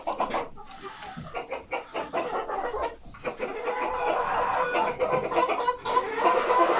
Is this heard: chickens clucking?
yes